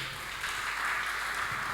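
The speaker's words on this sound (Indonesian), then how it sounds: "Tepuk tangan dulu Bapak Ibu." A church congregation at an Easter service applauds, a short burst of soft, fairly distant clapping with no voices over it.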